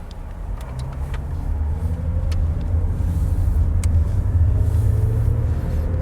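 Used car on a test drive, steady engine and road rumble building as it pulls away and cruises, with a low continuous drone and faint interior noises, no talking.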